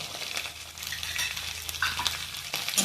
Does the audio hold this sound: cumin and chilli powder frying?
yes